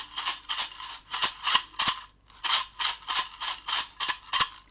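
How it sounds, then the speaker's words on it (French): A small metal box partly filled with lentils is shaken in quick rhythmic bursts, giving close, crisp rattling swishes like a snare drum, with a brief pause midway before the pattern resumes. "Voici une petite boîte en métal que j'ai remplie en partie de lentilles."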